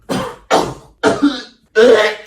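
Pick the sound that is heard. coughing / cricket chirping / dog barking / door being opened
coughing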